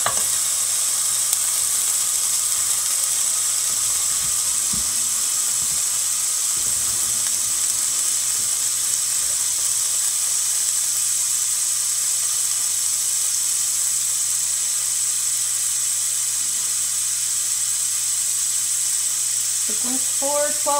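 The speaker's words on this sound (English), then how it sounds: "Well, they passed the sizzle test. They have a nice sizzle." MorningStar Farms breakfast sausage links, put in frozen, sizzle in a pan with a steady bright hiss across the whole stretch, close and even, while people talk at times in the background.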